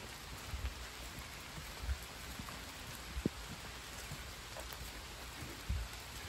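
Steady rain falls outdoors on a freshly cleared quarter-acre lot, a faint, even hiss with occasional soft drops and no voices.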